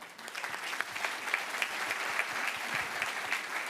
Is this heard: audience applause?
yes